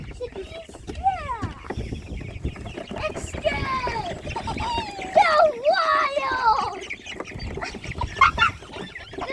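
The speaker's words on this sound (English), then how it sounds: "The chickens stick their head in there and eat." Chickens cluck and squawk around a feeder and waterer where they stick their heads in to eat, a busy stream of rising and falling calls close by, mixed with scuffling and talk from people nearby.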